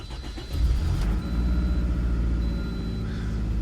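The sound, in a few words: car engine starting and running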